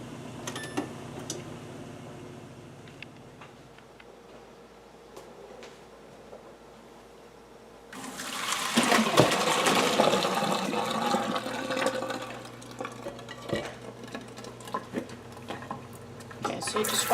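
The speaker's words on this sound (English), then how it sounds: "We'll run a little cold water on them." Cold tap water runs over boiled potatoes for a potato salad, a steady rushing splash that starts abruptly partway through and stays loud, with light clatter over it.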